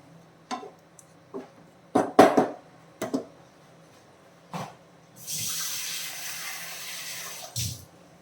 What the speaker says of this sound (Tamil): அதனால் நான் வந்து கொஞ்சம் தண்ணி சேர்க்கணும்